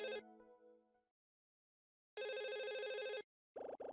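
A telephone rings in the Another Code: R video game with an electronic buzzing trill in two bursts, one long and one shorter, following a fading chime tone at the start.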